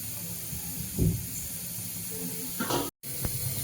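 A pressure cooker in a home kitchen where milk pudding is being made hisses steam continuously, swelling into a couple of louder bursts before cutting off abruptly.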